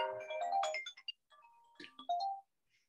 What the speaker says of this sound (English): That was my phone, unfortunately.